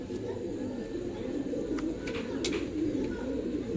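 A blue pigeon coos in a soft, continuous low murmur, close by, with faint clicks and rustles scattered over the top and no talking.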